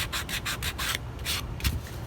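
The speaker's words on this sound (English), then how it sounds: "I'm just roughing up the edges of this a little bit with a little sanding disc" Rhythmic abrasive rubbing of a small sanding disc roughing up the edges of rustic wooden blocks, several quick strokes in a row with brief pauses, close and steady.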